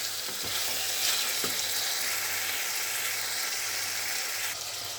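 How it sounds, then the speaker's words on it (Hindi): Mutton pieces frying in ghee for an Eid mutton curry, a loud, continuous crackling sizzle with a few soft stirring knocks and no speech. "माशाल्लाह से हमारा गोश्त अच्छी तरह भून गया है, घी छोड़ दिया"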